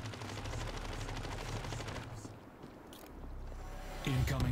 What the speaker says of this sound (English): They spawned me right in that gunfire.